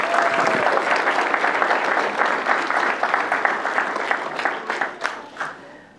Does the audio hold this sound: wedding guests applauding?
yes